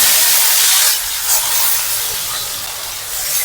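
Loud, steady sizzling hiss of onions dropped into hot frying oil for crisp fried onions, cooked outdoors at a picnic, continuous broadband frying noise with no talk.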